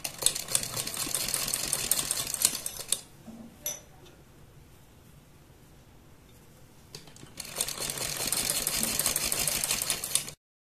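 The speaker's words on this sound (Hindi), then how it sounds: "इस तरह से हम चारों तरफ सिलाई लगा देंगे इसकी" A sewing machine stitches around the neckline of a garment, running in a fast, even chatter, pausing for a few seconds, then running again, close and moderately loud with no voices.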